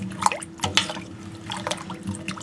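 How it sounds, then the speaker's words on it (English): Potatoes sloshing as they are stirred in a pot of salted water: close, irregular splashes and liquid swirls with small drips in between. "Let me just give this a good stir."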